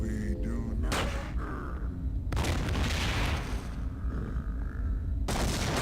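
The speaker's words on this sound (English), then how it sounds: "First, let's use regular standard rounds. Just your everyday pistol round" Standard pistol rounds fired in System Shock 2, a few loud sharp gunshot bursts with booming decays, spaced apart and heard alone without talk.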